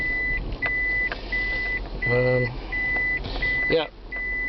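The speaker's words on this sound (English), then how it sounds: "yes, I know it's beeping. We're backing up." Steady, evenly spaced reversing beeps from a backing taxi over a low engine hum, with a person speaking briefly over them.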